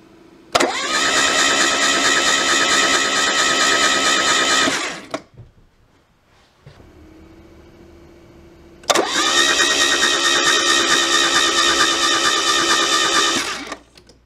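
Citroën BX 16 GTi engine cranking and running loudly for about five seconds, stopping, then a quieter pause before it is started again and runs steadily and loud to the end.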